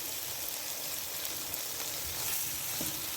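Masala fries in a pan for gosht karahi with a steady, dense sizzle that holds at an even level throughout, with faint stirring beneath.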